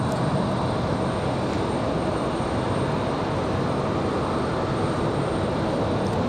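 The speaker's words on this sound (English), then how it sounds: "All right, UPS, the A300, getting ready to line up and wait." A UPS Airbus A300 jet lining up for takeoff at Raleigh-Durham International Airport, giving a steady, loud, broadband engine roar that holds evenly throughout, with no voices.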